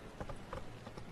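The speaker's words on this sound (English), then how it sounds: "Whoa there, Roach" Horse hooves clip-clop steadily in The Witcher 3 video game, a repeated rhythmic trotting pattern heard close and clear, with no voices over it.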